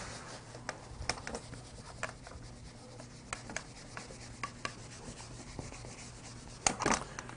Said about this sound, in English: let me erase this here real quick